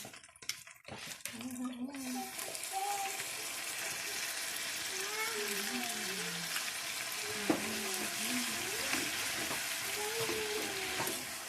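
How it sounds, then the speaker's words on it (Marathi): Whole spices frying in hot oil after a ginger-garlic paste, a dense continuous sizzle that rises after a few sharp opening knocks and holds loud and steady, with a faint voice in the background. "याला पण छानपैकी शिजू द्यायचा खडा मसाल्याला तेलामध्ये"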